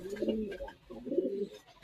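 Pigeons being kept for sale, a red Muski and a green pigeon, give two deep throaty coos in a row, close and fairly clear against quiet background noise.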